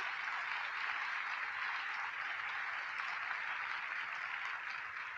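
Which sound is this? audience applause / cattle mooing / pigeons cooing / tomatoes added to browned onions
audience applause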